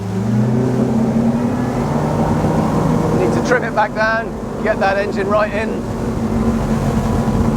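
XO 260 DSCVR motor boat engine running steadily through a tight, sharp turn, a loud constant drone with water rushing beneath, while someone talks over it throughout.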